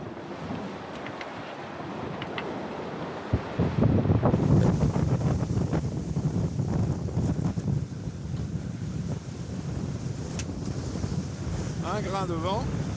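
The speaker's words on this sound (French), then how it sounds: "Un grain de vent." A wind squall buffets a sailboat on rough open sea in the Pacific, a steady rushing gust over the microphone with sea and hull noise, brief knocks and a faint voice near the end.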